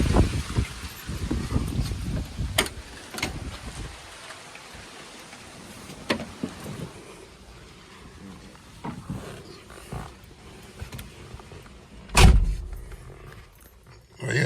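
A 1989 Ford Mustang Gen 3 with a swapped Coyote V8 idles outdoors, a low rumble at moderate distance mixed with wind buffeting and a few sharp knocks, louder at first and then settling lower.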